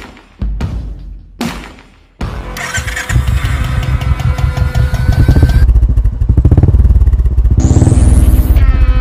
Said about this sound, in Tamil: இந்த வண்டி சவுண்டு கூட நல்லா இல்லை சார். டுப்பு டுப்புங்குது சார்.